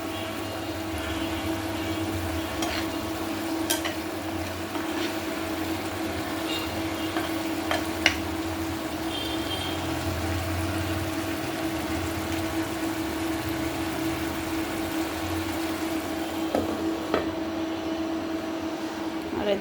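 Bean seeds sauté and sizzle in a hot pan, a steady frying hiss with occasional stirring scrapes heard close by, under a constant low background hum.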